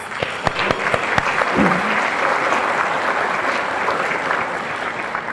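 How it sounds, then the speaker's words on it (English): An audience at a city State of the City address gives a warm round of applause, a steady roar of many hands with a few sharper claps standing out, sustained throughout. "Can we all give her a round of applause?"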